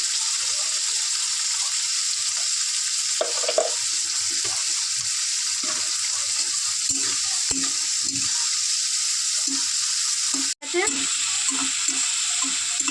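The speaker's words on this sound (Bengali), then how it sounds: "লাল লাল করে ভেজে নিয়েছি" Banana flower and shrimp fry in a pan with a steady, even sizzle and occasional stirring scrapes, and a voice is heard briefly over the cooking.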